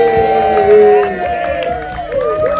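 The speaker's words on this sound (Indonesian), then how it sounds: "tepuk tangan dong sekali lagi teman-teman" Audience at a press conference for a film trailer and poster launch, clapping and cheering in a brief burst that mixes with voices and a host talking over it.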